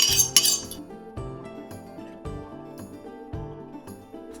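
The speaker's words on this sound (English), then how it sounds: "Then whisk up 2 eggs and add them to your starter" Two eggs whisked in a bowl for sourdough doughnut batter, quick metallic clinks and taps of the whisk against the bowl in an uneven rapid rhythm, close and moderately loud.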